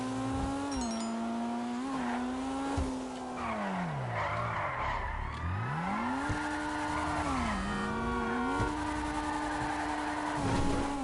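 A fast car in GTA 5 Online roars at high revs with tires skidding and squealing, engine pitch swooping down and back up through hard turns, loud and continuous with no talking.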